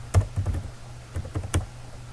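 Typing on a computer keyboard, a quick burst of close clicking keystrokes in two short clusters with brief gaps, no voices.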